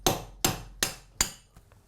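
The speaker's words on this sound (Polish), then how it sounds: "I wbijamy nasz pręt." Four sharp, evenly spaced hammer blows strike close by as a metal rod is driven into a wooden shelf, each ringing briefly, followed by a fainter tap.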